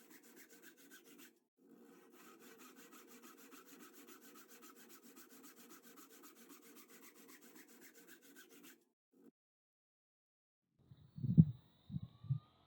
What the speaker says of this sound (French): Donc, je l'égalise avec la scie à main.